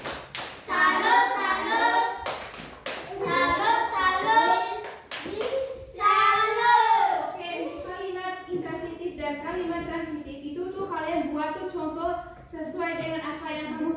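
A classroom of children doing a rhythmic salute clap for a group, bursts of patterned clapping mixed with loud chanting and children's voices over about fourteen seconds.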